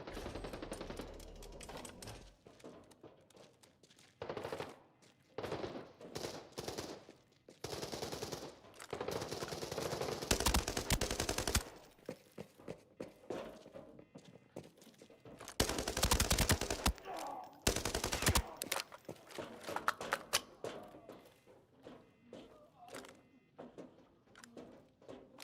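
Gunfire in a shooter video game, mostly distant: scattered bursts and rapid automatic volleys come and go over about twenty-five seconds, some louder stretches of sustained firing between quieter gaps, with no talking.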